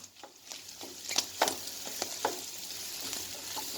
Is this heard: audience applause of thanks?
no